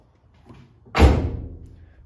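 A Nissan 350Z car door swings and shuts with a single solid thud, preceded by a faint click of the latch.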